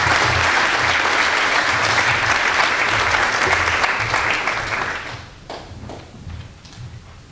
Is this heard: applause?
yes